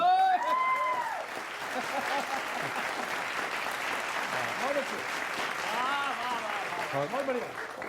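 Audience applause fills a comedy poetry show, a dense steady wash of clapping from a crowd with voices rising over it at the start and again near the end.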